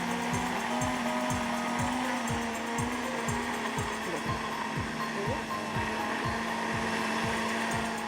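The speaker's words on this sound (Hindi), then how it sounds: "अच्छा है ब्लेंडर" A kitchen blender whirs loudly and steadily, churning a green yogurt marinade, with a rhythmic pulsing chop from the blades and a constant motor hum throughout.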